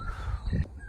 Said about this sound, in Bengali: গাছের ডালে শালিকের বাচ্চারা ডাকছে